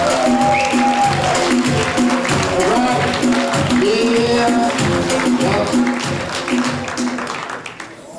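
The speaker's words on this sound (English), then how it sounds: "Big hand of applause for Victor Ramos" A comedy-night crowd applauds comedian Victor Ramos with steady, loud clapping and whoops over music, fading toward the end.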